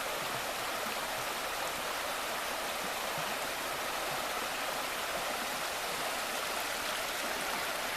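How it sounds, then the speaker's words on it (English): The Piney River in Shenandoah National Park rushes past in a steady broadband wash of flowing water, close and continuous, with no voices over it. "I just crossed this Piney River again."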